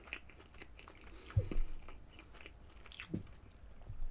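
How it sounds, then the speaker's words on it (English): Biting into and chewing a Five Guys burger, close-up soft crunchy bites followed by wet, muffled chewing, quiet and intimate with no talk. "I'm actually enjoying this burger."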